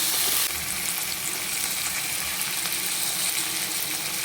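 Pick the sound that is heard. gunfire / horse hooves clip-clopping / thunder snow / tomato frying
tomato frying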